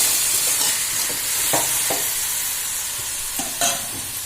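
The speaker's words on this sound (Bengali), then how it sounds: "ঢেলে দেওয়ার পর একদম নেড়ে চেড়ে নেব ভালো করে।" Marinated chicken being stirred in a hot pan, with steady frying sizzle and several distinct scraping strokes of a spoon against the pan, close and fairly loud with no talking.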